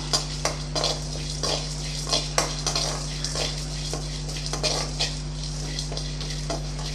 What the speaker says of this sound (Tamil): இப்போ இதை நல்லா வறுத்துக்கலாம்